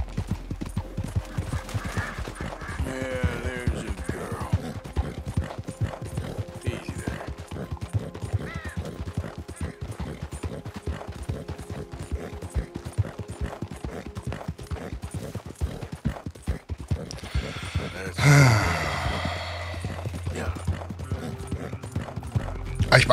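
Horse hooves galloping in Red Dead Redemption 2, a steady rapid clip-clop running throughout, with a whinny, some clanking gear and a burst of game sound effects partway through.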